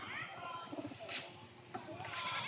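Domestic pigeons kept for sale at a home loft give soft, faint cooing under a busy background with other voices and noise, a few brief coo bursts scattered through.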